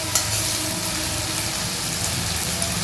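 Coarsely crushed ginger, garlic and chili sizzle steadily in hot oil, a dense, continuous close crackle with no pauses and no voices.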